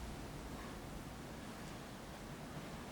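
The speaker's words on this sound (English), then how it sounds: "The waves are getting kind of strong over there." Strong ocean surf ahead of a tropical storm gives a continuous broad roar of breaking waves with no pauses, heard from some distance and without any talking.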